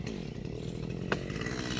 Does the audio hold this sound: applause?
no